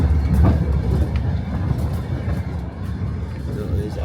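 Interior of a moving passenger train in Ukraine, a steady low rumble with rhythmic rattling of the carriage, loud and close, with people talking over it.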